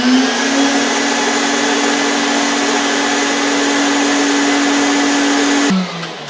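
Craftsman 4-gallon 5.0 HP wet/dry shop vacuum running with its hose attached: a loud, steady motor whine and airflow roar that holds evenly, then winds down near the end.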